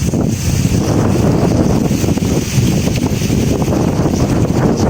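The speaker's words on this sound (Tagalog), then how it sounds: "sobrang lakas ng hangin" Strong wind buffets the microphone outdoors near coconut trees while a kite is flown, a loud, continuous low roar with gusting surges and no talk.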